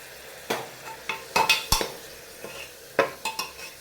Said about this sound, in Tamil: சேர்த்து இந்த தக்காளியை நல்லா வதக்கி எடுத்துக்கிடுவோம்